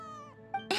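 A cat named Little Prince in the video game Genshin Impact gives a short, drawn-out meow that falls in pitch, followed by a brief chirp and then a louder, harsher burst of sound.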